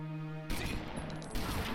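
Shotgun fire in Omerta: City of Gangsters, two loud broadband blasts about a second apart, each followed by a brief noisy tail, heard alone with no talk.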